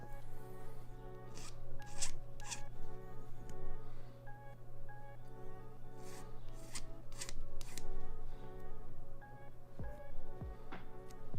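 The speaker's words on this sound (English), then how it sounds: "I need to cut this one." Plastic parts of an RX-78-2 Gundam model kit are snipped from the runner in a series of sharp, close clicks and snaps, mixed with handling rustles over a steady background hum.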